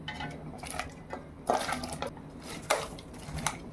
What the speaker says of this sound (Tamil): கொஞ்சம் மஞ்சத்தூள் சேர்த்து அதில் க்ளீன் பண்ணி வச்ச காலிஃப்ளவரை போட்டுக்கோங்க.